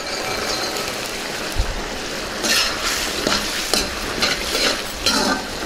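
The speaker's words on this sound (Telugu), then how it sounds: "ముందుగా నూనెలో వేయించి పెట్టుకున్న పూల్ మకానీని ఇందులో వేసుకుందాం" Fried phool makhana is stirred into a simmering tomato curry in a pan, giving a bubbling sizzle with repeated scraping and clattering spoon strokes, close and fairly loud, with no voices.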